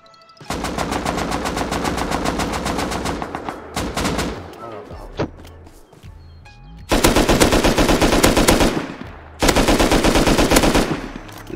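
Rapid automatic gunfire in the survival video game Rust, long loud bursts of dense shots with a short pause and quieter scattered shots between them, close and dominant.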